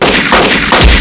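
Loud film gunfire as a man is hit by a hail of shots in a crime movie scene, dense overlapping bursts sustained through the moment with no talk.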